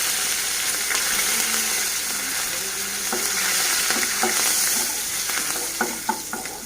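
Curry leaves and turmeric sizzling in hot oil for an amaranth-leaf fry, a steady close frying hiss with scattered sharp crackles and pops and stirring clatter toward the end.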